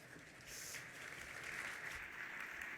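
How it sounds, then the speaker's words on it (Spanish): An audience at a gastronomy talk on sustainable cooking gives soft, distant applause for an introduced speaker, a steady low wash of clapping. "Un aplauso para él."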